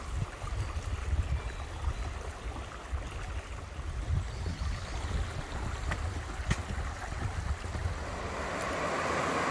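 Constant broad rush of moving water with low rumble, water pouring over a large weir at some distance on the Annandale Way in Scotland, mixed with wind; no speech.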